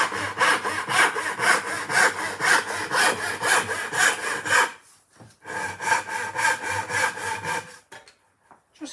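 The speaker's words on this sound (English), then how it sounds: "Just hear that saw. That saw is just wonderful." A hand saw rasps steadily through wood in quick back-and-forth strokes, close and loud, pausing briefly before resuming for a few more strokes.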